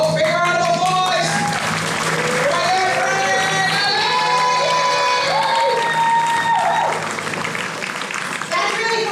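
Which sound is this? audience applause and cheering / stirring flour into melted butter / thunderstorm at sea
audience applause and cheering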